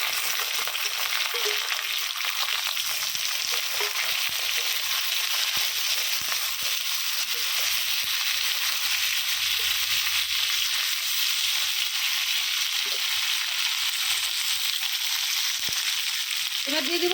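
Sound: onion, tomato, garlic and green chili frying in a pan

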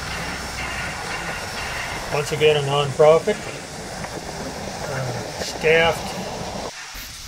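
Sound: Mount Rainier Railroad train passing

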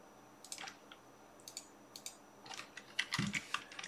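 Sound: typing cell reference E1 on computer keyboard

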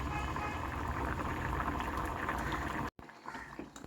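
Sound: ivy gourd curry boiling in coconut milk

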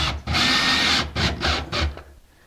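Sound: power drill driving a screw into ceiling drywall

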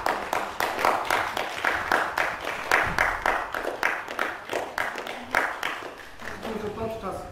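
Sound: audience applause for the artists

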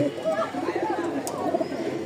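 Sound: male Bashiraj pigeon cooing

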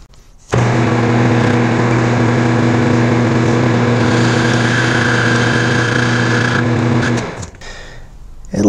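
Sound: boring head cutting steel at 550 RPM

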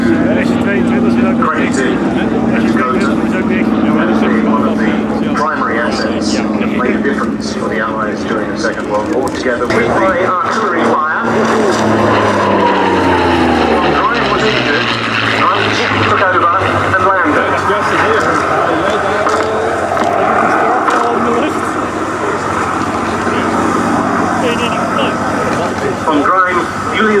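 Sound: propeller aircraft circling slowly at Duxford airshow

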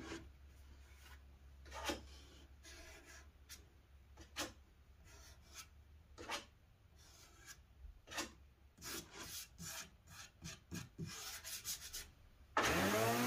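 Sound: straw scraping glue squeeze-out from wooden inside corners

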